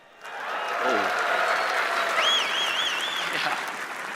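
A large keynote audience at Microsoft Ignite claps, with a continuous wash of applause rising quickly and holding steady while cheers and whoops ring out over it.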